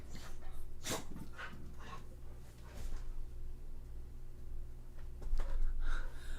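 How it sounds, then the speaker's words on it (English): A dog close by snorts, sniffs and whimpers softly in a quiet room, with several short bursts of breathy noise spread over a steady low background hum. "Yes, this is a dog."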